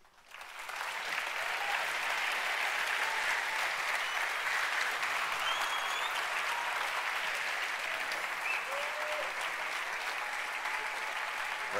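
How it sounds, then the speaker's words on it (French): An audience claps steadily and densely for the whole stretch, a loud, even wash of applause from a large crowd with no talking over it. "J'aimerais qu'on puisse les applaudir."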